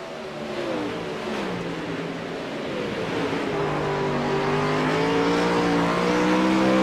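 Race cars roar around the track during a 30-lap GMC feature event, engines rising steadily in pitch and loudness as they accelerate, with overlapping engine tones and no talk.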